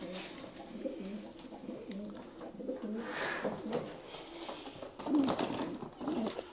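Racing pigeons at a championship loft in Częstochowa, Poland, giving soft repeated coos and murmurs from several birds nearby, with faint rustling and no voices.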